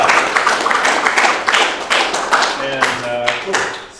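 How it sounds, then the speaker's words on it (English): Hearty round of applause at a video game development club's general meeting, loud dense clapping from a crowd throughout, fading slightly near the end as a voice begins speaking over it. "Big old hearty round of applause for stepping up."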